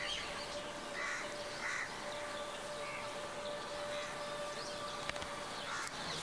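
Birds in a ruined royal elephant stable overtaken by jungle, with faint cawing and scattered calls over a steady insect-like hiss.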